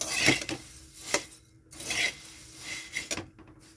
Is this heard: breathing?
no